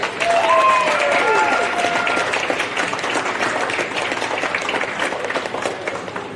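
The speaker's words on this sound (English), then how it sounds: "One final round of applause." A crowd applauds the 2024 TPL Next Gen champions at the close of the event, a dense, steady wash of clapping with some cheering voices and a whistle-like tone, gradually thinning toward the end.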